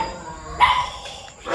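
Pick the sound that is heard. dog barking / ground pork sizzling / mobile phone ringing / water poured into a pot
dog barking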